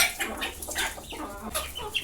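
A hen searching for a place to lay more eggs clucks repeatedly in short, close bursts, with brief pauses between calls and no voices nearby.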